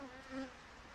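Honey bees buzzing around an open hive whose top box is full of brood, a steady droning hum with a brief swell in the middle, close and continuous, no voices.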